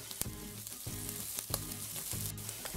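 Carrot sautés with calabresa sausage in a pan, a soft, continuous sizzle broken by several rhythmic scraping stirs. No one talks.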